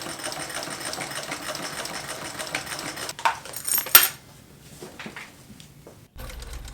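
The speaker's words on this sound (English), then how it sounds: "I finished sewing the gusset to the bottom side of the back panel" A sewing machine stitches a fabric gusset onto the back panel of a small running phone pouch, a steady close whirring run for about three seconds, then a few clicks and knocks and a quieter stretch.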